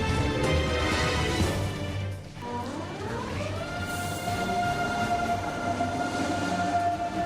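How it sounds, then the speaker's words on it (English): A Deutsche Bahn ICE 3 high-speed train rushes past with a steady roaring rail noise and a rising tonal whine, a brief dip partway through, then a sustained pitched hum as it continues. "The Deutsche Bahn ICE 3."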